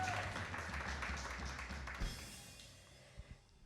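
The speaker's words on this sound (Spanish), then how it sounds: "Démosle un aplauso al Señor por lo que Él ha pagado." A church congregation applauds together, a dense steady wash of clapping that gradually thins and fades toward the end.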